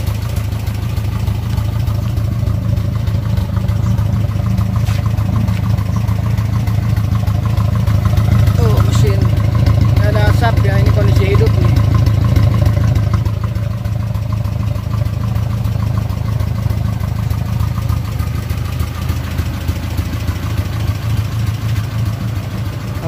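A 1987 pickup truck engine idles loud and close with a steady low rumble, holding evenly for the whole stretch with no voices.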